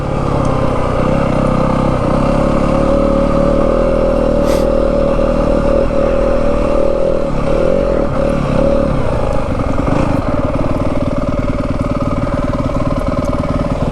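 Yamaha WR250F dirt bike in first gear climbing a slow, steady incline on a mountain trail, the engine droning loud and close with small shifts in revs.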